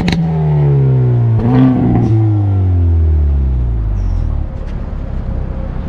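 A 2021 Hyundai Veloster N hot hatch with its exhaust valve open revs hard close by, a loud rising roar with strong engine harmonics that swells, peaks and then falls away as the revs drop, with no talking over it.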